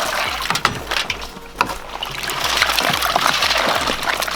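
Freshly opened razor clams dropped into a bowl of ice water, giving close, wet splashes and trickles with clinking shells, busy and steady throughout.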